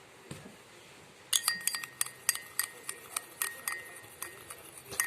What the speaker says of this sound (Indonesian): Aduk sampai rata ya.